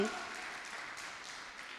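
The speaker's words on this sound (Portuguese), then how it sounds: "Uma salva de palmas ao Senhor." Broadband wash of church congregation applause after a preacher's call to clap for the Lord, steady and dense throughout, moderately distant.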